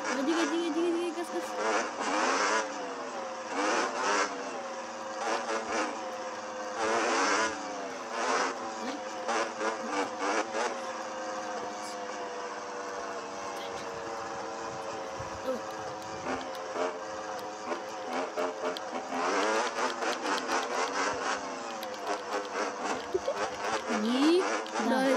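Car engine revved by a learner driver during a driving lesson, the pitch rising and falling in repeated surges, with people talking inside the car over it.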